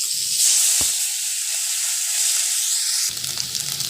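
Onions dropped into hot oil in a pan for duck egg curry, with cumin, bay leaf and dried chilli: a sharp hiss at about one second, then steady loud sizzling and frying that roughens near the end.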